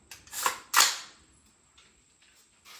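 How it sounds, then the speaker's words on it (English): Two sharp reports from an Aero Precision custom AR pistol, about a third of a second apart, followed by quieter mechanical clatter and near-silence. "We're going to try out the pistol, AR pistol, Aero Precision Custom."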